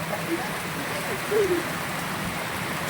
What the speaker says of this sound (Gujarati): પાણી પાવા જાય અને વરસાદ ચાલુ થઈ